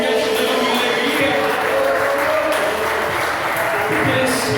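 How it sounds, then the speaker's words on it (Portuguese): A church congregation claps during a Portuguese-language family worship service, a steady dense wash of applause running throughout with music and voices blending underneath. "Aplauda o nome do Senhor em gratidão e alegria."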